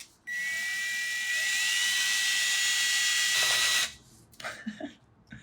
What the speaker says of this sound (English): I can see a little bit of metal coming off onto the sandpaper, so we're doing something.